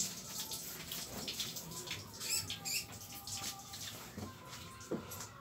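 Water runs from a tap into a container in a kitchen during meal prep, a steady faint splashing and trickling with a few small clinks and drips, no voices.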